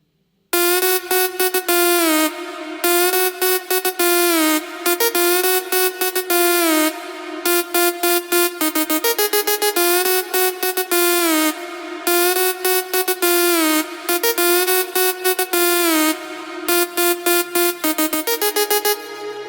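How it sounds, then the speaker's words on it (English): A bright synthesizer arpeggio from a Nexus arpeggiator runs in fast repeating note patterns, loud and steady, the pitches stepping up and down over and over with no voices. "Okay, so this is the arpeggiator."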